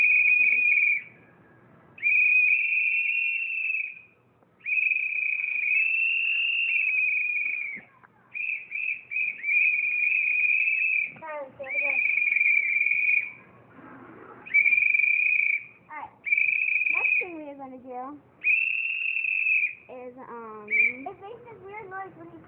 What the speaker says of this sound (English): I'm just going to whistle.